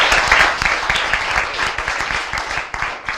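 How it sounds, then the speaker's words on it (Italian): Dense audience applause at an Italian ceremony in Rossano Veneto, steady and loud across the whole stretch, with a few voices mixed into the clapping. "E l'applauso lo estendo"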